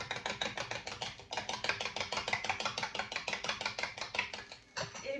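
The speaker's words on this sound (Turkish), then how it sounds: "Yumurtalarımı bir güzel çırpıyorum." Eggs are beaten briskly in a bowl beside butter and olive oil, a fast, regular clicking and scraping rhythm of several strokes per second that continues steadily before a short pause near the end.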